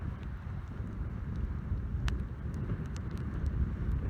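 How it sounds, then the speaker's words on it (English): Wind gusts over a hilltop campsite during a sailing trip, a steady low rumble buffeting the microphone with a few faint clicks on top, fairly loud and continuous with no voices. "It's a little windy right now"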